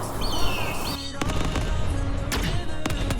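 Gunfire from a weapon in the anime-style action video game Black Surge Night: sharp cracking shots in quick irregular bursts over a dense, busy game soundscape with whistling effects, close and loud.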